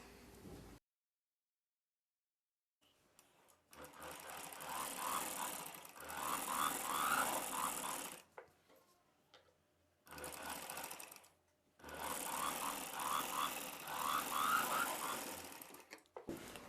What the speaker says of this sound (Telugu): ఇప్పుడు ఈ నెక్ చుట్టూ కుట్టు వేసుకోవాలి